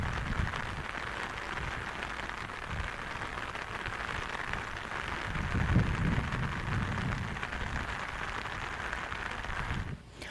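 Steady rain falls in Ramban district, a broad continuous hiss holding even throughout, with a slightly heavier swell midway and an abrupt drop at the very end; no voices.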